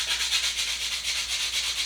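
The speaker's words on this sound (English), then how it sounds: "Now I'm going to take some extra sandpaper and go up in grit to make it smoother and do the final touches." Hand sanding with 220 grit sandpaper, a steady back-and-forth rubbing with an even, repeating rhythm, close and moderately loud with no talking.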